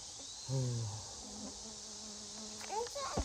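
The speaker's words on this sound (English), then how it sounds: "Oh, do you hear that? Yeah. Bugs, bugs, bugs." Bugs buzz around outdoors near tomato plants on an evening walk, a thin, steady drone heard close by while an adult and someone talk over it.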